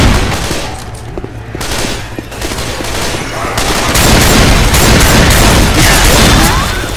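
Dense, continuous gunfire from the video game Left 4 Dead 2 keeps up loud, overlapping bursts and booms that grow heavier toward the end, with voices mixed in.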